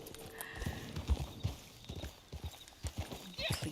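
Horse hooves clip-clop steadily on the ground in a video game, a quiet irregular series of hoof strikes that sounds close, under faint background noise.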